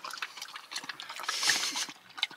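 A pet laps up water close by, giving quick, irregular wet slurping splashes in bursts inside a house built of mud.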